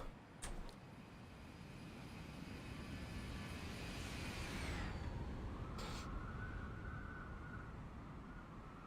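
A Zibo 737-800 makes a flyby in the X-Plane 11 simulator. Its jet engine whine swells, then drops sharply in pitch as it passes, and a lower roar trails off afterward.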